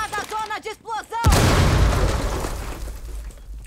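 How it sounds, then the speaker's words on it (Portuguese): A loud in-game explosion from Rainbow Six Siege booms close by after a short spoken warning, then its rumble decays over a couple of seconds. "Afastada a zona de explosão!"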